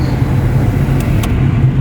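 Steady road traffic rumble with low engine drone throughout, heard from inside or near a vehicle, with a couple of faint high clicks.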